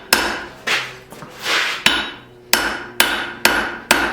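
A hammer pounds a knife tang while forging an integral bolster knife, close, loud ringing blows: a few scattered strikes with brief scraping between, then a steady run of evenly spaced hits.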